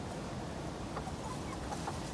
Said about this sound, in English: The roosters are crowing now.